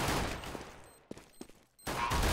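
Gunfire in Counter-Strike: Global Offensive during an esports cup match: a burst of shots up front, then a quieter stretch with a couple of sharp isolated cracks, before loud noisy action returns at the end.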